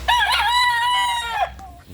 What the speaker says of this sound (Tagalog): Malalaking mga manok eh. Malalaki na matatakaw.